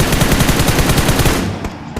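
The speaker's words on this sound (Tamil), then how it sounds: "பொசிஷன் எடுக்க முன்னாடி ஃபயர் பண்ணிட்டீங்க." Rapid automatic gunfire in the mobile battle royale game BGMI, a dense loud burst of shots that runs steadily and then cuts off near the end.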